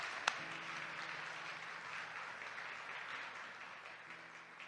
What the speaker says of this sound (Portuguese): Dê un aplauso a Cristo, por favor.